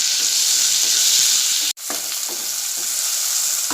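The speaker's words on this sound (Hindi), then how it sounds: "अब मैं इसमें टमाटर डालूंगी और इसे नरम होने तक प्याज में फ्राई करूंगी।" Chopped tomatoes frying with onions in a pan for a Konkani ridge gourd and prawn curry, giving a steady close sizzle with faint stirring scrapes and one brief break midway.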